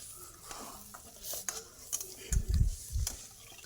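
Egg bhurji sizzles in a pan on a low flame while a spatula scrapes and stirs it, with a few dull knocks against the pan near the end, close and alone.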